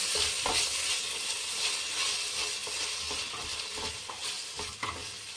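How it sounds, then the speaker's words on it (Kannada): Tomatoes fry in a hot pan for egg rice, a steady sizzle running throughout with repeated scraping stirs, close and continuous, with no voices. "ಫ್ರೆಂಡ್ಸ್, ಟೊಮೊಟೊ ಹಾಕಿ ಚೆನ್ನಾಗಿ ಬೇಯಿಸಬೇಕು ಫ್ರೆಂಡ್ಸ್."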